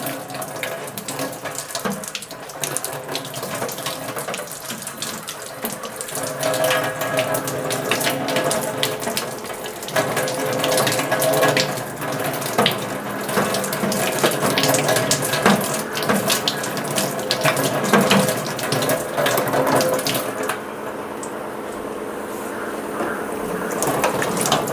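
Filtered water runs from a tap in a steady, close rush for over twenty seconds, with some mechanical rattling and clinking mixed in, easing slightly toward the end.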